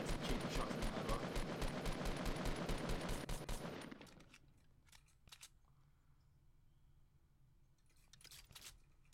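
Fortnite match gunfire: a rapid, steady stream of automatic shots that rattles on loudly for several seconds before cutting off, followed by sparse, fainter single shots and distant firing.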